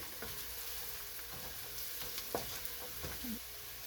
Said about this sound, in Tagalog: Isang kutsarita na cumin para pangpaano ng flavor ng ating curry. Ginigisa ko siya.